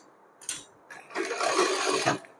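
A sewing machine stitches lace onto a small cotton dress: a short whirring burst near the start, then a steadier stretch of rapid stitching of about a second, close and moderately loud.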